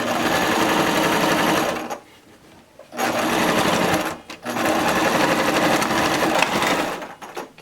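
A sewing machine stitches a fabric face mask in close, loud, rapid whirring runs, broken by two short pauses between bursts.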